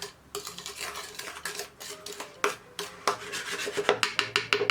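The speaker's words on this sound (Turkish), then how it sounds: "şimdi onları önceden hazırlamış olduğum karışıma bulayacağım" Cookies rolled through a hazelnut and cinnamon mixture against a bowl give off a rough, gritty rubbing and scraping, with quicker rhythmic strokes and light clinks toward the end, close and with no voices.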